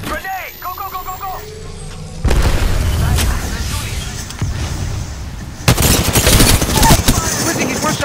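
Video game firefight with a grenade blast and bursts of gunfire, loud booming explosions and rapid shots, with a brief voice over the opening moments.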